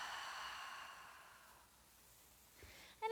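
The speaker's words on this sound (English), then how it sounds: "And then exhale." A long, soft exhale during a yoga breathing practice, a gentle airy breath that tapers away over a few seconds, heard close and quiet with no talking.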